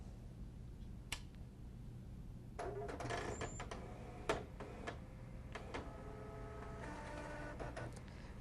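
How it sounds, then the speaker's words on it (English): An OKI printer loads paper after its FF load button is pressed: quiet mechanical whirring and feeding, with several sharp clicks and ticks heard close up in a quiet room. "Turn the printer on and press FF load button."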